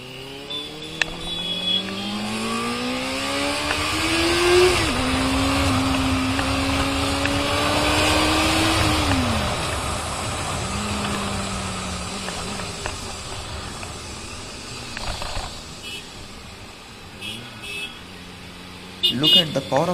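A Benelli 600i motorcycle engine revs up through the gears while riding, rising and falling in pitch with loud wind rush, as someone talks over it.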